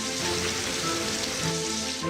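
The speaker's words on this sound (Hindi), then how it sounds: "बारिश का हाल" Steady rain falling in a broadcast weather segment, a continuous even hiss of drops at moderate level with faint low tonal hum underneath, with no voices.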